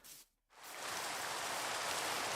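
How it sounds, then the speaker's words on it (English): Steady Minecraft rain hisses loudly and evenly after a brief quiet gap at the start, a dense continuous wash of falling water with no voices. "Rain's just good."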